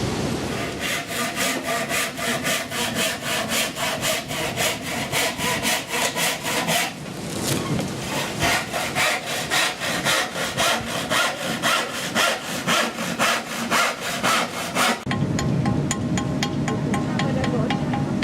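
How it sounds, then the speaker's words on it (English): Crew members scrape rust from the steel surface of the sailing ship Royal Clipper, producing close, steady, rhythmic rasping strokes that repeat without a break for the whole stretch, with no voices. "The enemy of any type of ship, that is rust. It has to be cleared away and then the surface repainted."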